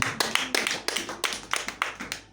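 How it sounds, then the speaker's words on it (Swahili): Sharp claps repeat in a steady rhythm, about three per second, as a church congregation applauds nearby during worship. "Pigia Yesu makofi"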